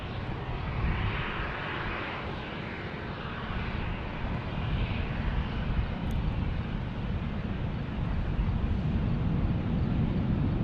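An American Airlines A321 touches down at San Diego airport, a steady, moderately loud engine and rolling roar at a distance that stays fairly even throughout, with no talk.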